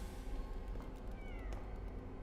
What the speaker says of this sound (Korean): 여기 아직 고양이들이 있다